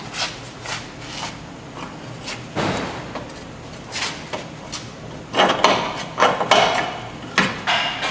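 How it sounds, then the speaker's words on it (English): Metal clunks and knocks from prying down on the lower control arm of a 2008 Honda CR-V during ball joint replacement, several sharp taps spaced irregularly, louder near the end, close by. "Prying down on the control arm. We're going to separate it if I can."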